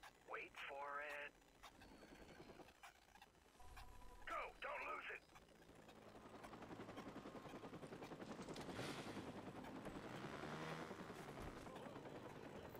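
Helicopter rotor thumping in the video game Watch Dogs builds and swells over the second half, mixed with mechanical game sounds and brief bursts of voice early on.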